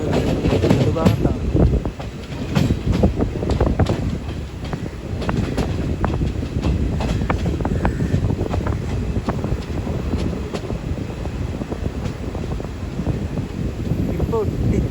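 A Jan Shatabdi Express rolls between Thiruvananthapuram and Ernakulam, its coach filling the air with a constant rumble, rattling clatter and wind rush, loud and close, while a voice talks over it.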